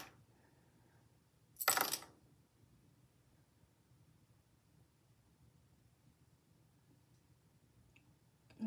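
A single short, bright clatter of small charms dropping onto tarot cards, close and brief, against an otherwise quiet room with faint background hiss.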